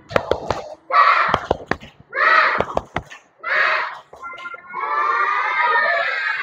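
A group of girls in a classroom performs a rhythmic clap-and-cheer chant: bursts of sharp, quick hand claps alternate with short shouted group calls, ending in a longer sustained cheer, all close and fairly loud.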